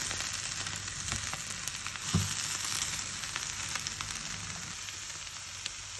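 Eggplants frying in butter in a pan, a steady soft sizzle with a scrape or two from stirring, close and continuous.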